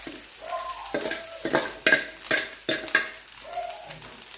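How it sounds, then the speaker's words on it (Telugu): Cooked rice being stirred into a carom-seed tempering in a pan, a spoon scraping and knocking against the metal in repeated close strokes, with a soft sizzle between them. "ఈ అన్నం అంతా కలిసేంత వరకు కలుపుకోవాలి"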